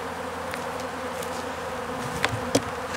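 Bees buzz in an open beehive during an inspection, a soft continuous hum with a few brief louder buzzes as insects pass close, no talk.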